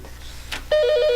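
Telephone ringing for an incoming podcast caller: a steady electronic ring tone starts abruptly after a short soft rustle and holds loud and close to the end.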